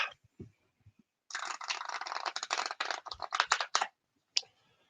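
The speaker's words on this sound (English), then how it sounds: "you can get a right good shuffle on that" A deck of tarot cards with thick cardstock being shuffled: a dense, steady run of riffling card flutters lasting a few seconds, close and fairly loud, then a single snap as the deck settles, with no talking.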